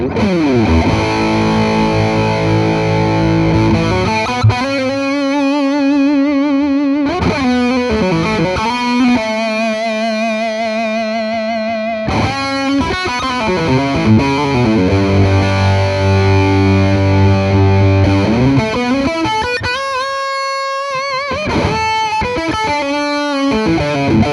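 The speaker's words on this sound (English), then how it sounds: "Let's now switch over to some Overdrive and have a listen to how it sounds for lead and rhythm sounds" Overdriven electric guitar on a Shergold Masquerader through the bridge humbucker, with heavy amp gain, alternating sustained chords and melodic lead lines, thick and loud throughout with no talking.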